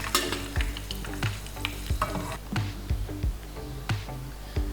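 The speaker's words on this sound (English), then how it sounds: "So this is only about a 30-second fry." Basil leaves frying in hot oil for a Thai eggplant stir-fry, a steady dense sizzle broken by repeated sharp clinks and scrapes of a utensil against the pan, close and fairly loud.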